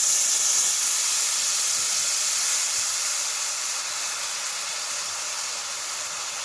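Spice paste of chili powder, turmeric, salt and sour yogurt sizzles steadily in a pan as a loud, continuous hiss that fades slightly toward the end, with no talking.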